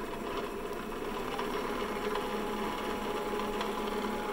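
The spindle of a PM-728VT milling machine runs with a steady, even whine and hum, quiet and constant without a break.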